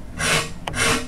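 A number 9 stitched modeling rasp fitted with a Lie-Nielsen handle shapes a wooden guitar neck in two quick, close scraping strokes, each a bright rasping burst with a short pause between.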